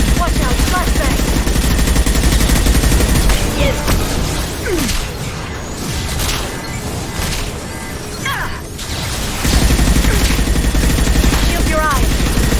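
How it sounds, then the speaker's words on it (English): Dense gunfire and bursts of automatic weapons with crashing impacts and blasts, including flashbang grenades, in a Mass Effect 2 combat scene, loud and sustained with a brief lull mid-clip while voices speak. "Watch out, flashbangs."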